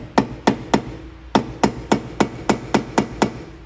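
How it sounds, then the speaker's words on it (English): A mallet lightly taps a hex tool into a brake bolt on a BMW during rotor and brake pad removal, giving ten sharp, close knocks: three quick ones, a short pause, then seven in a steady rhythm. "get a mallet and lightly tap it."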